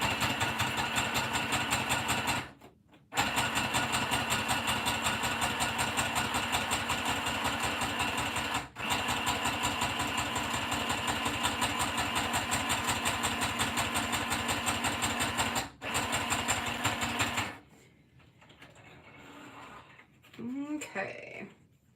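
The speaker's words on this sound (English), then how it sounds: "I'm going to go ahead and stitch this. It might be loud because it's going through a lot of stuff." A sewing machine stitches through thick layers of craft material, running loud and steady with a few brief pauses, then stopping; faint voice and rustling follow near the end.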